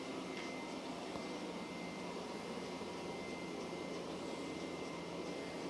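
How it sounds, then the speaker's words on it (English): A Roborock Q Revo S robot vacuum cleaner hums and whirs steadily with a constant airy, broadband motor noise, fairly quiet and unbroken, and no one speaks. "We'll do the vacuuming again with the Roborock Q Revo S."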